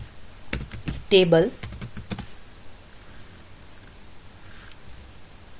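Rapid clicking keystrokes on a computer keyboard while writing a database command, sometimes under a voice, then fading to quiet room hiss.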